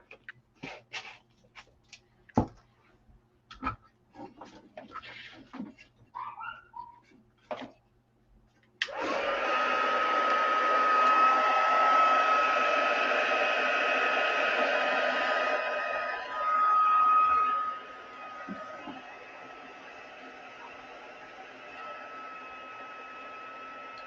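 A heat gun melts embossing powder on a handmade wedding card, blowing as a steady, loud whooshing hum for about fifteen seconds after some scattered handling taps, then cutting out and leaving a quieter background hiss.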